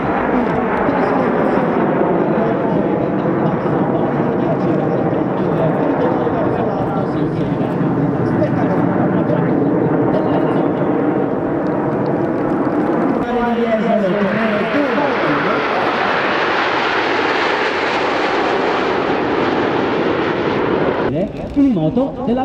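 Frecce Tricolori jets perform an aerobatic display flight, a loud continuous roar of jet engines that swells and shifts pitch as the aircraft pass, with an announcer talking over it throughout.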